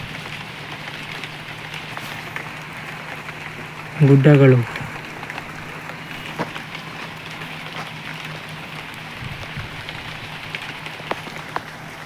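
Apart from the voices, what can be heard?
rain falling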